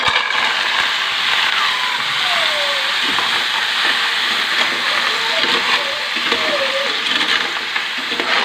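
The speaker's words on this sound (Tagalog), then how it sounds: "gisa na po natin yung bawang" Garlic sautés in a pan with a steady, close sizzle and hiss that runs without pause, broken by occasional stirring scrapes.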